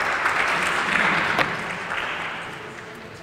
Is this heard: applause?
yes